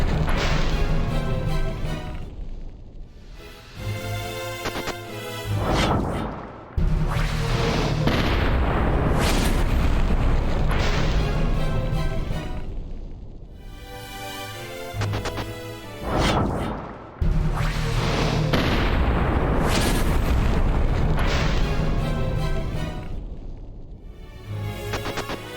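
Battle audio from the Symphony of War video game delivers cannon fire and explosions as repeated loud, heavy booms and crashing blasts, rolling across long stretches with brief lulls between volleys, and no talk.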